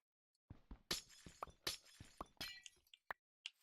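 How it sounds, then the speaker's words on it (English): Glass blocks shattering in Minecraft, a string of sharp crashing breaks with tinkling debris, several separate hits spaced unevenly over a few seconds, close and fairly loud with no talk. "And then we can take out the glass in the middle."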